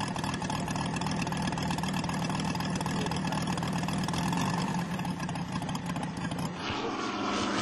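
A model Corsair aircraft's small 5-cylinder radial engine drones steadily at a low, chugging idle, loud and continuous, dropping off abruptly near the end.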